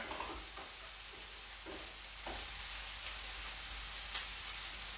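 Meatballs sizzling in a pan over high heat while being stirred, a steady bright frying hiss with soft scraping movements of the utensil and one sharp tap near the end, no talk.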